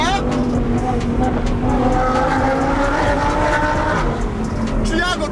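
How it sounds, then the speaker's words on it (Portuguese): Audi R8 sports car revving and accelerating hard, a loud sustained engine roar with rising tonal sweeps and tire squeal, close by, with people speaking over it. "eu tô acelerando muito seu carro, mano"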